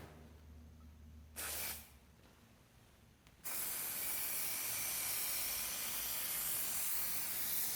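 Plasti Dip aerosol spray can coating a car's faded rubber trim: a short hiss burst, then a steady, loud, continuous spray hiss held to the end, close up with no voices.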